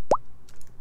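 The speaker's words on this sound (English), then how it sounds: "that noise you just heard, guys, was me getting a text" A short bright phone text-message alert chimes once, a quick rising blip over a quiet game background.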